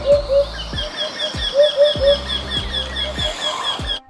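A hoopoe calls in repeated soft, low hooting notes, in paired bursts at a steady rhythm, with thin chirps from other birds in the background.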